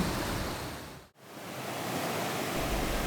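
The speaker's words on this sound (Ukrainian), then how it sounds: "Послухавши чарівний гуркіт води та помилувавшись річковими порогами" A steady, broad roar of rushing river rapids swollen by heavy rain fills the clip, cut by a brief dip in the middle, then continuing at full strength.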